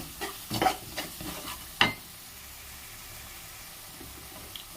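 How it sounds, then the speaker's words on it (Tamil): Chili powder stirring in hot oil for a fish curry, giving a faint steady sizzle broken by a few sharp scrapes and knocks of a utensil against the pan, most of them early on. "இந்த மிளகாய் மிளகாத்தூள் வந்து போட்டு நல்லா கலரி விடுங்க"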